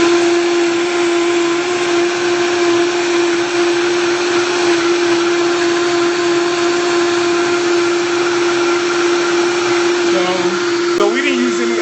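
A blender runs loud and steady on a frozen mango smoothie with a sustained high motor whine, and the pitch shifts near the end as it changes speed or stops.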